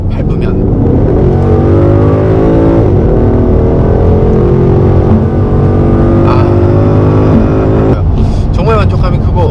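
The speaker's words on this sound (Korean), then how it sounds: "가속할 때 이 배기음이 이 운전석 전체에" A 2015 Ford Mustang GT revs hard under acceleration, its deep exhaust roar rising through the gears with loud, continuous harmonic sweeps and brief shift breaks, heard from inside the cabin.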